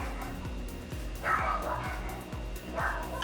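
Dogs barking repeatedly in the distance, a steady run of short yips over a constant low background hum, with no one speaking.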